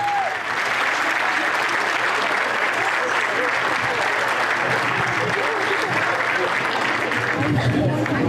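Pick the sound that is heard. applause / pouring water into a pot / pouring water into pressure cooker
applause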